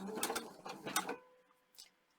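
A sewing machine fitted with a 3mm shell rolled hem foot stitches a rolled hem in a short, quiet mechanical run of about a second before stopping, close by, followed by a faint click.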